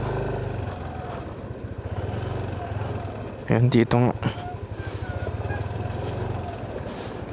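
A Yamaha NMAX V3 scooter rides along a rough, rocky road. Its steady low engine drone is broken midway by a short burst of loud clattering jolts, and a rider speaks over the noise.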